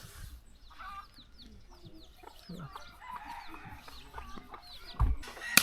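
Chickens cluck and a rooster calls in a morning hill-village yard of the Bru people, with repeated short clucks and chirps throughout, moderately near, ending in a louder thump of handling noise.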